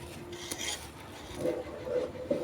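Semolina, grated coconut and rice flour being mixed together in a bowl, with quiet scraping and rubbing strokes that grow a little louder toward the end, close by and with no talking.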